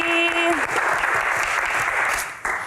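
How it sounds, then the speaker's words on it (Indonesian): A studio audience applauds for Prilly Latuconsina, dense continuous clapping that starts right after a short tone and cuts off abruptly near the end. "tepuk tangan sekali lagi untuk Prilly Latuconsina"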